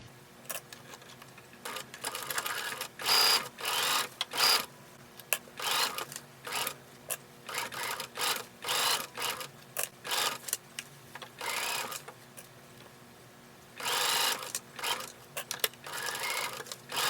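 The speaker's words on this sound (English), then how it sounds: "I am top stitching the waistline of the dress" A sewing machine top stitching the waistline of a circle skirt dress, running in close, steady bursts of rapid needle chatter separated by short pauses, with no talking.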